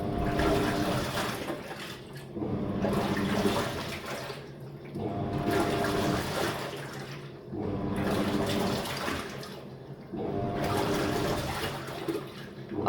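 A 5.5 kg top-loading impeller washing machine takes in water in loud, rhythmic surges about every two seconds, heard close and steady with no talking.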